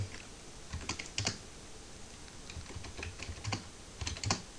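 Keys tapped on a computer keyboard while entering a command on a Linux Minecraft server, a short run of quiet, close clicks in small irregular clusters.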